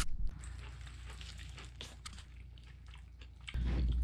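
Close, soft chewing and biting of Irish potatoes, a few moist crunches over quiet room tone, with a sudden louder rustle near the end and no talk.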